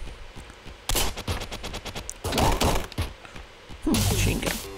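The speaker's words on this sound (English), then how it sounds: "machine gun." Machine gun fire in the video game Downwell comes in three loud, rapid bursts separated by short pauses, each a dense stream of punchy shots over game music.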